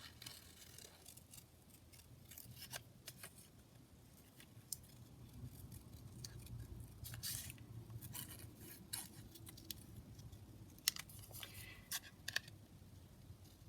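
Scissors fussy-cutting a paper butterfly out of a collage sheet, heard as quiet, irregular snips and rustling paper close by, with a few sharper clicks near the end.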